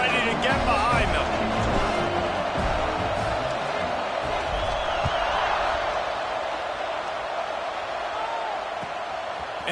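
Loud, steady roar of a packed college football stadium crowd at a Penn State versus Oregon game before kickoff, a dense continuous wash of cheering and shouting with scattered whoops lasting throughout, voices blended into the din.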